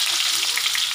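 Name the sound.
onions frying in spice tempering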